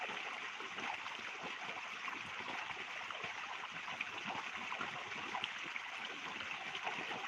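Sprinkler irrigation sprays water across a cotton field, a steady, even rushing hiss that holds unchanged throughout, faint and distant, with no voices.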